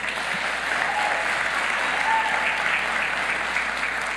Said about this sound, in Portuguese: Eu queria pedir a vocês que saudassem ele com uma salva de palmas.